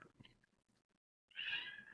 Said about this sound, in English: The cats are going crazy.